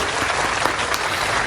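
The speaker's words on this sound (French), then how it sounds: "Donc personnellement, on peut s'applaudir." Steady applause from an audience, a dense even patter of clapping hands heard alone at moderate loudness for a brief moment.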